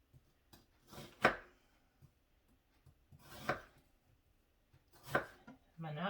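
A sharp knife chops through an onion on a board in three distinct, well-spaced strokes, each a close, crisp thud with a short rasp, with quiet pauses in between.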